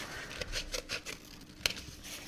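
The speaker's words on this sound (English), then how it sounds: "I'm going to cut out a nice big shape, and I'm going to cut an organic shape that is sort of circular" Scissors snip through paper to cut out a large, roughly circular organic shape: a run of soft, close crisp snips in an uneven rhythm, with one sharper cut near the end.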